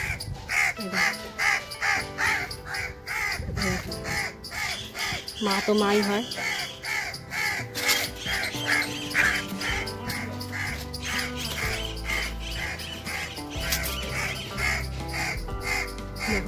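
A crow caws loudly and repeatedly, harsh calls coming in quick bursts near a spot where its chick lies dead. A person talks over the calls throughout.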